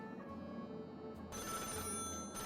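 A telephone rings in Nancy Drew: Danger by Design, a steady electronic tone that swells louder after a moment and keeps ringing, with no voices.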